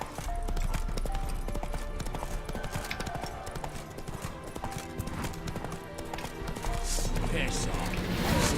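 Roach the horse gallops in The Witcher 3: Wild Hunt, with a steady, loud drumming of hooves that carries on throughout while someone talks over it.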